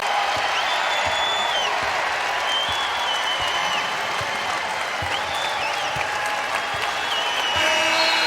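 A home crowd at a women's college basketball game against Notre Dame cheers and applauds loudly and steadily throughout, a dense wall of clapping with whistles and shouts rising above it.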